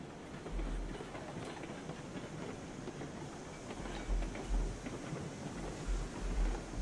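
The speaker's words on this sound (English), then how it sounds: "Catch the whole train coming in there." Train rolling in along the track in RailRoads Online, a steady rumbling rolling noise with low thumps and clacks swelling near the end, no talk.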